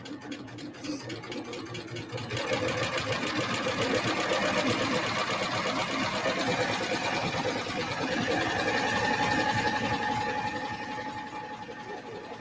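A serger sewing machine runs a rolled hem on ribbon, a steady fast mechanical whirring hum that starts softer, rises after a couple of seconds, holds evenly and eases near the end, with no voices over it.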